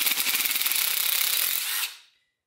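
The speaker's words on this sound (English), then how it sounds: "what I'm doing now is getting these valve springs out" A power tool whirs in one steady, buzzing run of under two seconds and then cuts off abruptly while valve springs are removed from the cylinder heads of an LQ4 V8 engine.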